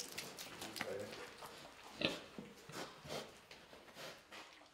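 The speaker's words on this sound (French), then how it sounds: "Après avoir enlevé les noix, je donne les pommes de cajou à mes cochons." Pigs eating fallen cashew apples on a farm, with soft snorts, grunts and wet chewing in irregular bursts, fairly close and moderately quiet.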